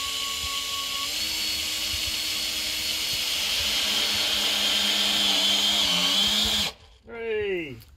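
A power drill drives a screw into a tin garden bed with a sustained high whine that shifts in pitch as it bites, then stops abruptly, followed by a brief voice at the end.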